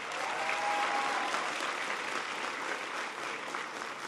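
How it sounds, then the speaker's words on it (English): Steady, dense applause from a large audience at a presidential speech on education and the economy, filling the space evenly at a moderately loud level for several seconds without pause. "Give them a big round of applause."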